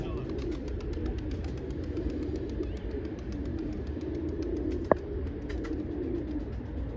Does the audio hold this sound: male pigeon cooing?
yes